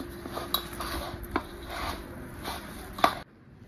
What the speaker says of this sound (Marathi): बटाटा आणि शाबू छान असा मिक्स करून घ्यायचा आपल्याला।